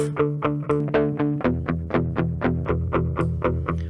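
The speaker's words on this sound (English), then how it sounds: "you just put a digital distortion on that, didn't you?" Electric guitar through digital distortion plays a steady, repeated chord pattern, each strum crunchy and saturated, ringing close and loud with no voices.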